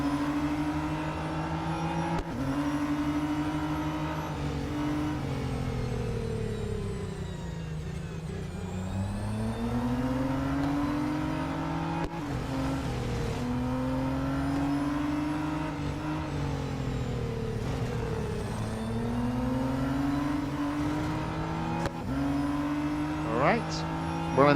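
A race car engine in the mobile racing game Real Racing 3 drones and revs continuously, pitch dipping and climbing through gear changes and corners, loud and close, with a voice talking over it at times.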